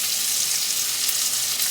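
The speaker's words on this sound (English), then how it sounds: "4 cups of potatoes that we'll stir in there, and I'll do those in the grease." About four cups of cut potatoes fry in hot bacon grease, giving off a loud, steady, hissing sizzle throughout, close up and without any talking.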